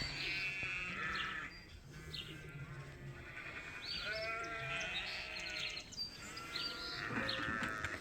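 Hungry sheep on a farm, kept off feed overnight before shearing, bleat repeatedly and loudly, several overlapping calls close by, with birds chirping faintly in the background.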